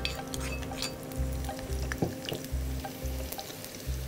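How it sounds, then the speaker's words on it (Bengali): Half a cup of chopped onion frying in oil in a pan, a soft steady sizzle with occasional clinks of a utensil, close, plus a low repeating hum in the background. "এখানে আধা কাপ পেঁয়াজ কুচি আছে পুরোটাই দিয়ে দিব আমি"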